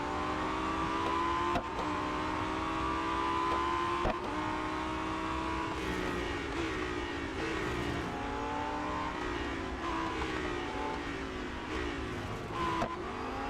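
A Lamborghini Huracan STO racing in Real Racing 3 makes a continuous high engine whine that rises and falls through gear changes, with brief drops at shifts and a steady loud drone.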